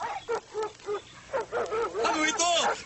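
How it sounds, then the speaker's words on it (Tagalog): Dogs in a Tagalog-dubbed animated Cinderella series bark in a quick run of short, regular yaps, then louder overlapping barks and voices build toward the end. "saan galing ang mga aso yan?"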